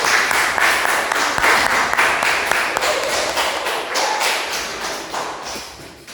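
A small audience at an Indonesian school event applauds with distinct individual claps audible in the mix, loud and close at first, then thinning and fading toward the end.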